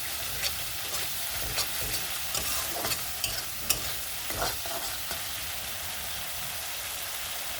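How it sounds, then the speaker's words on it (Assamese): Cashew, poppy seed and onion paste frying in a pan, a steady dense sizzle with scattered crackles and occasional stirring scrapes, close and continuous with no voices. "আৰু কাজু, পোস্ত, পিঁয়াজৰ পেষ্টখিনি মই বেছি সময় ফ্ৰাই কৰি নল'ম।"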